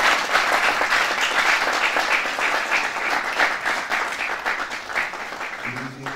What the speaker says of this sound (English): I would like for us to give him a round of applause one more time